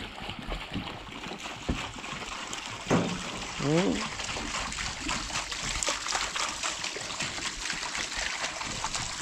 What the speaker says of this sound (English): So now we're putting water.